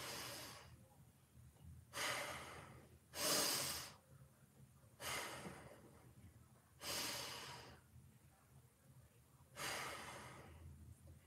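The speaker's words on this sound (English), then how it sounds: "only nasal breathing for you, to breathe into your back" Slow, deliberate nasal breaths during a back and rib-cage mobility exercise, six long inhales and exhales in a steady rhythm, close and clear with no talking.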